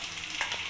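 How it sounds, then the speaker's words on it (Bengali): Capsicum sizzles in a pan with onions, a brief close crackle of frying with a quick stir scraping through it. "ক্যাপসিকামটাকেও আমি ভালো করে ভেজে নেব লাল করে।"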